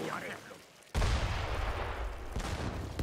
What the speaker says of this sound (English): Monitor shots.